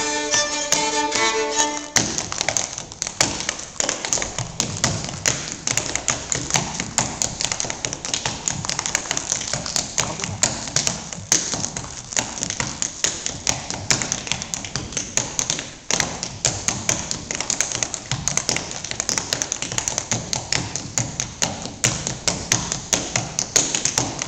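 Appalachian clogging steps at a cultural arts festival: dense, rapid taps and thumps of shoes on a hard floor, continuous and evenly loud, with a brief tonal musical sound at the very start.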